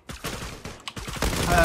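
Rapid bursts of gunfire from the online shooter Zula, sharp repeated shots crowding together over about two seconds with a brief pause midway, loud and close.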